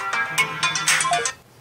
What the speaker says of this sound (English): of course the phone will ring